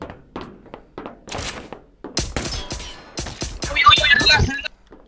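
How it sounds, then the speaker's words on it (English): Gunfire rings out in a video game during a pistol kill, a burst of sharp shots and thumps in quick succession, loud and close, with players talking over the action. "You killed him with a pistol."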